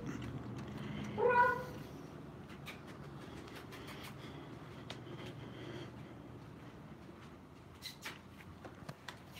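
A cat gives a single short meow early on, faint against a steady low rumble and scattered clicks at a derelict site at night.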